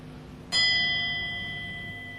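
A single bell strikes once and then rings on, its clear tones slowly decaying as it tolls the hour, heard alone with no other sound.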